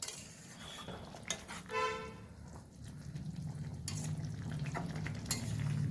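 Tomato puree goes into a pan of methi chicken curry, with a metal utensil clinking and scraping against the pan, followed by a building sizzle and steady stirring.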